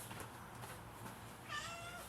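A cat asking for food lets out a single faint meow near the end, heard against quiet indoor background noise.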